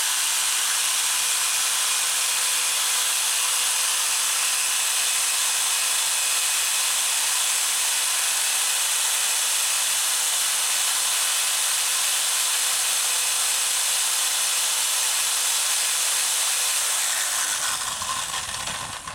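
A Harbor Freight double cut saw runs continuously, giving off a steady, loud mechanical whir and hiss that holds unchanged for most of the time before winding down near the end.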